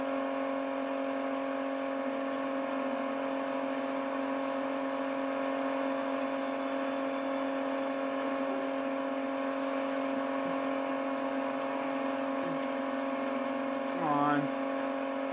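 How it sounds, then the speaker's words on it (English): Steady engine drone of a car in the video game Saints Row, a constant mid-pitched hum held for the whole stretch with a brief rising blip near the end. "the noise of this car is just"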